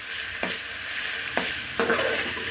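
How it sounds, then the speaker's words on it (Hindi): Onions fry in a pan with a continuous bright sizzle and hiss, broken by three soft stirring knocks from a utensil, close and steady with no talk. "तो अब हम प्याज शामिल कर देंगे और प्याज को डाल के फिर फ्राई करेंगे"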